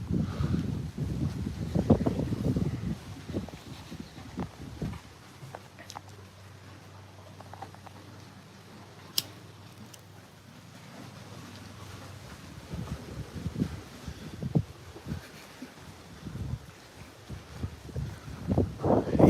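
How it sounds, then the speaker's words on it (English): Gusty wind buffeting the microphone outdoors, strong at the start and end with a calmer low rumble in between. "It's so windy out here."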